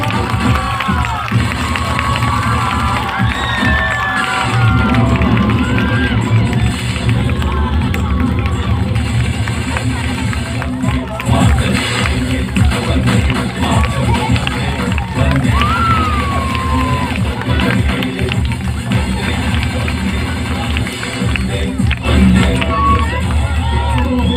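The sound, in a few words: loud applause and cheering at school annual day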